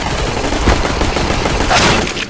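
Rapid gunfire from a shooter video game, a dense continuous clatter of overlapping shots that stays loud and close for the whole moment, with no talking.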